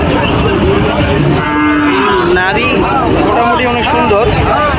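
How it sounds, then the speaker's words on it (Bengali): Sahiwal cattle at the Joypurhat livestock market give long, loud, nearby moos that rise and fall, over a constant background of crowd noise and human voices. "সাইওয়াল একটা দেখেন সুন্দর গরু"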